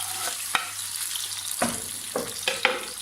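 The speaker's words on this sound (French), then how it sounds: "Donc ici j'ai mon mélange de poivrons et tomates concassées, on vient les mettre directement dans la poêle." Bell peppers and crushed tomatoes fry in a pan with a steady broadband sizzle, broken by several sharp stirring clacks and scrapes of a utensil, close and fairly loud with no voices.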